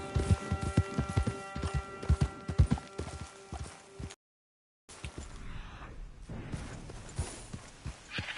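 Horse hooves galloping in Red Dead Redemption 2, a steady fast clip-clop of strikes running for several seconds, broken by a brief dropout, then resuming more loosely with a voice speaking over the rhythm.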